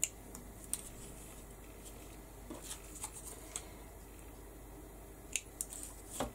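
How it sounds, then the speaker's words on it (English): Pliers snipping flower stems for a mixed media craft frame: a few sharp, isolated clicks and snaps scattered over quiet room tone, close by, with soft rustling between cuts and no talk. "I'm cutting my flowers."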